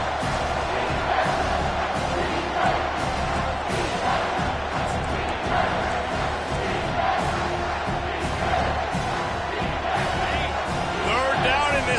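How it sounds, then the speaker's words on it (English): A stadium crowd roars loudly and continuously in the NCAA 25 college football video game, a dense wall of cheering with a commentator talking over it. "this crowd is tearing the lid off this place"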